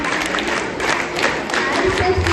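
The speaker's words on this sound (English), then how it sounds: "Scout clap, ready, go." Students at a school investiture ceremony perform a scout clap, producing a few rhythmic bursts of group clapping in a large space, moderately loud amid crowd murmur.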